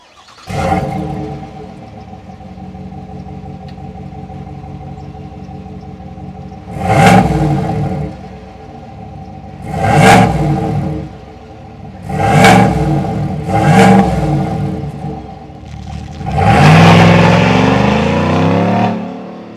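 The 6.2-liter V8 of a 2025 GMC Sierra 1500 Denali pickup idles with a deep rumble, then revs sharply five times in spaced bursts, the last rev longest, loud and close.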